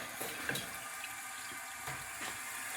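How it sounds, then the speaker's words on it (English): Hose water runs through the worn fill valve of a yellow 1977 Briggs Abingdon toilet on a test stand, giving a steady faucet-like hiss and trickle with a few soft splashy surges, close and continuous throughout. "This is a really old fill valve, and the pressure from the hose is too much for it to stop."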